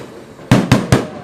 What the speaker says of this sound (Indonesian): Pesta kembang api